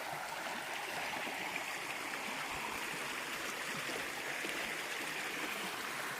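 Laurel Fork, a stream along a hiking trail, rushes and burbles steadily, a dense continuous wash of flowing water heard close by with no break.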